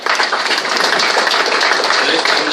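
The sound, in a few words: applause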